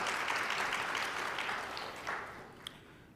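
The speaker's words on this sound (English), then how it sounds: "let's give her a round of applause for that, please" An audience at an education ministry stakeholder meeting applauds, a dense burst of clapping that slowly fades over a few seconds.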